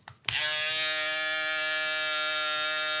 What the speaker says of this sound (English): I feel that foil shavers are already kind of noisy.